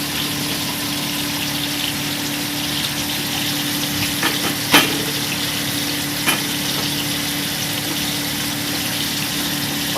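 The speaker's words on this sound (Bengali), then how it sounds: "আমার পটলগুলো ভাজা হয়ে গেছে" Pointed gourd (potol) for dorma sizzles in hot oil in a pan, a steady close crackling hiss with a couple of faint clinks partway through.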